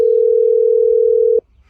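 A mobile phone call's steady single-pitch dial tone, loud and close, holding for about a second and a half before cutting off abruptly into near silence.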